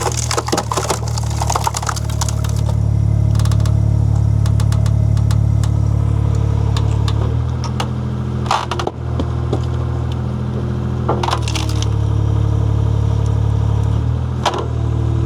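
Wood splits under a Wolfe Ridge SS282 splitter mounted on a skid steer, with loud cracking and splintering bursts over a steady, droning engine idle that runs throughout.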